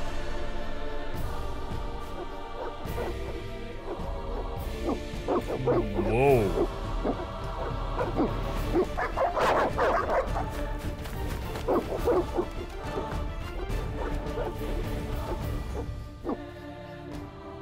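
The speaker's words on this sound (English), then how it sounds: "They're evil dogs." Dogs bark and yelp in The Witcher over dramatic game music and sound effects, with a brief exclamation from a voice partway through.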